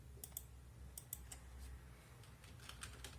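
Typing on a computer keyboard while coding an LED output pin, with quick clustered key clicks in bursts, fairly faint over a low steady background hum.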